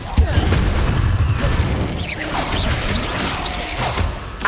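Incendio fire spell cast in Hogwarts Legacy: a sharp crack and boom followed by whooshing, crackling magic bursts, loud and close, layered with game effects.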